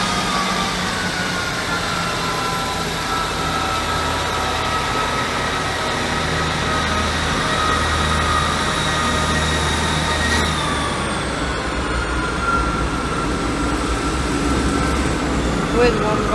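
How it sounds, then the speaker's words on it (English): Unit 158810 pulls away from the platform on the Norwich to Liverpool Lime Street service, a steady low diesel rumble with a constant hum, close and loud throughout. "the first train to leave will be the 1347"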